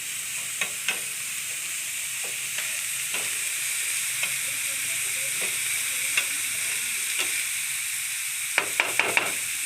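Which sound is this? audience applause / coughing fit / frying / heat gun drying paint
frying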